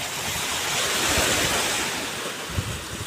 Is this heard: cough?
no